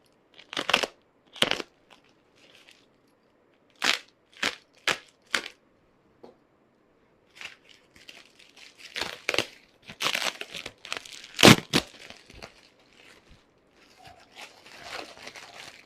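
A taped parcel holding a bag is opened: sharp rips of tape and crinkling, crunching plastic packaging come in uneven bursts at close range, with quiet gaps between them.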